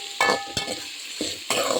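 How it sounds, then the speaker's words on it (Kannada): Cabbage with grated coconut fries in a pan, giving a close sizzle broken by a few sharp bursts of stirring and scraping. "ಚೆನ್ನಾಗಿ ನೋಡಿ, ಚೆನ್ನಾಗಿ ಫ್ರೈ ಆಗ್ತಾಯಿದೆ"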